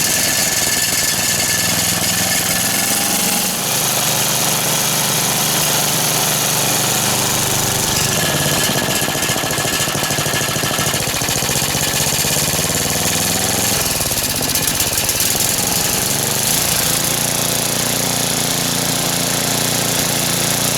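A snowblower engine runs outdoors after a repair for surging, a loud, close, continuous buzzing drone with slight rises and dips in speed across the run.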